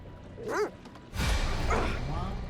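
A dog in the video game The Devil in Me gives a short bark and yips, then voices and game sounds take over, with the dog partly buried under talk.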